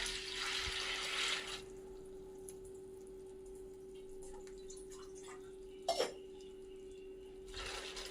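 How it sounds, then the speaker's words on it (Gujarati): Water splashes and trickles into a large vessel holding a bowl of cleaned puffed rice, a close, soft pouring and dripping with a brief louder splash near the end; no one speaks. "હવે તે મમરાને આપણે પલાળી દઈશું."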